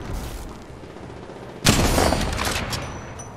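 Gunfire in the mobile game Apex Legends Mobile during a solo match: quiet background, then a sudden loud burst of rapid shots that continues as crackling fire to the end.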